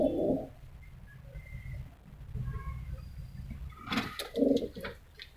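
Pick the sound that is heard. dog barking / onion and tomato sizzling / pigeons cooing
pigeons cooing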